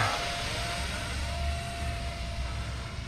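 A model airplane engine runs at full throttle during launch, giving a loud, steady, high-pitched buzzing whine that holds close and constant throughout.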